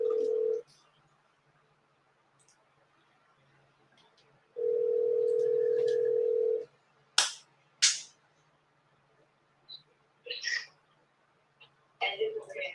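A telephone ringback tone sounds twice while placing a call, a steady hum burst near the start and a longer one midway, followed by sharp clicks and brief quiet speech.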